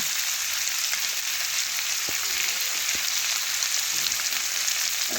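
Potatoes and onions fry in a pan with a steady, dense hiss of oil, while a few soft knocks of stirring sound through it, close and continuous.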